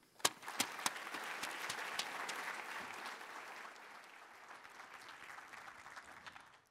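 An audience at a university talk bursts into sustained applause to welcome a speaker, opening with a few sharp claps, then a steady dense roar of clapping that slowly fades toward the end.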